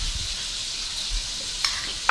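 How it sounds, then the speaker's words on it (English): Pasta carbonara ingredients sizzle steadily in a hot pan, a continuous crackling hiss with a few sharper pops, close and without voices. "Listen to that sizzle."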